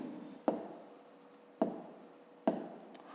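Pen writing numbers on paper during a fifth-grade maths exercise, heard as three short separate scratching strokes spaced about a second apart, close and clear, with no talking.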